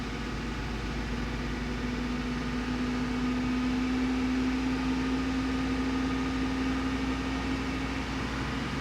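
A Chevy Suburban engine, one suspected of running above-normal fuel trims, holds a steady hum at about 2,000 RPM with a constant tonal drone over broadband noise, even and unchanging, with no voices.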